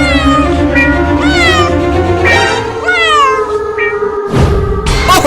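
Cartoon cat that has just given birth by the roadside, meowing in several drawn-out, wavering cries over a loud, busy background of sustained tones, ending with a sharp burst near the close.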